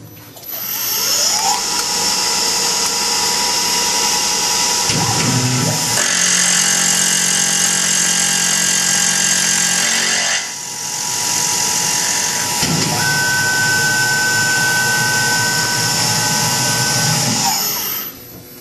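A Tormach PCNC 1100 CNC mill making a cutting pass, its loud steady high-pitched whine running almost continuously, with the tone and intensity shifting between sections and brief dips around the middle.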